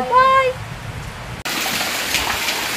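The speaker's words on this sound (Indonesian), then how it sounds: "Nih teman-teman ya, hujan," Heavy rain pours steadily on a rural Indonesian home flooded by water running off the rice fields, a loud, continuous hiss that swells in abruptly after a short tonal sound at the start.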